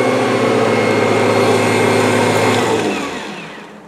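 A Kirby G3 vacuum cleaner runs with a steady, loud motor whine and hum for most of the clip, then winds down and fades as it switches off, with no talking.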